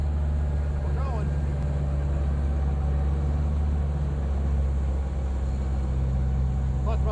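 1959 Peugeot 203C engine wound up while climbing a steep hill, a steady low droning hum heard from inside the car, continuous and moderately loud throughout.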